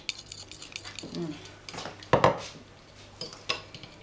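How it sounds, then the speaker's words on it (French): Butter is mixed in a bowl with a spoon or utensil, giving soft scraping and clinking against the bowl, with a couple of louder knocks and clatters in quiet surroundings. "Tu mélanges d'abord le beurre."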